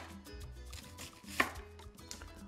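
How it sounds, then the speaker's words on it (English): An onion being chopped on a cutting board at home: a few soft, spaced knife knocks, close and quiet, with one sharper strike and faint kitchen background. "So I'm gonna chop this onion up"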